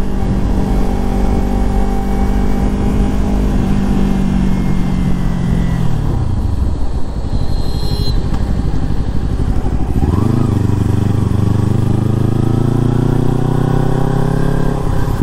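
A motorcycle, one of two Kawasaki Ninja bikes, revs and idles loudly on a road. Its engine note falls away, then picks up again into a steady, close, continuous drone with no talk over it.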